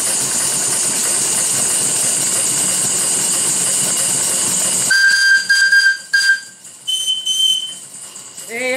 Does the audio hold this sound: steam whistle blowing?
yes